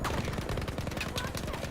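Rapid gunfire crackles in a dense, loud burst in Battlefield V, a frag grenade rifle shot among overlapping sharp reports with no pause between them.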